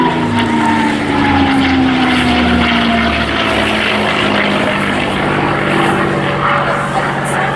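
A P-51 Mustang propeller aircraft in the Rolls-Royce heritage flight at the Eastbourne Airshow 2024 drones steadily overhead, a loud continuous engine roar with slowly falling pitch as it passes.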